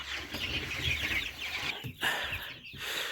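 Tri-color chicks huddled under a heat lamp, chirping and cheeping continuously and close by, forming a dense, steady twittering bed with brief pauses.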